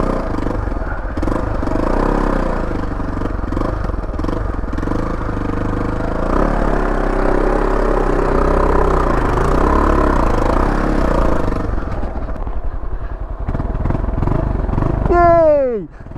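A small off-road motorcycle rides a muddy green lane, its engine droning steadily and loudly throughout with clattering and rough revving, then a quick whoosh near the end as it drops into deeper water.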